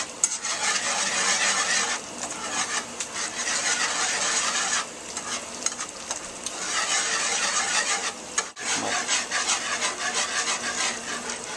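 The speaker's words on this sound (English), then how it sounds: "We're going to combine that, give it a nice whisk." Whisk stirring a cheddar and Parmesan cheese sauce in a pan for mac and cheese, a continuous close scraping swish that runs nearly unbroken with a few brief dips.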